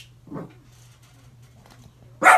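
A dog barks at lawn workers outside, giving one short bark and then, after a quiet pause, a second louder, sharper bark.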